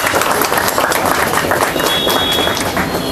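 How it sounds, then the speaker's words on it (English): An audience at a book launch evening claps steadily and loudly for a few seconds, a dense continuous patter of applause. "So, a round of applause to Prashant first."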